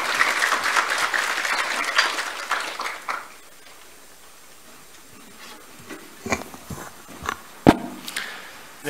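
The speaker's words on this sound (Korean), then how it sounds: "큰 박수 부탁드립니다" Audience clapping at a Korean military academy admissions information session, a dense burst of applause for about three seconds that fades out, followed by a quiet room with scattered taps and footsteps.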